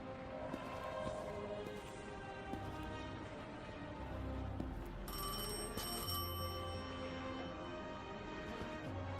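A telephone rings steadily in the video game Destiny 2, a bright repeating electronic trill over a dense background of game ambience and music, loud and continuous with no voices.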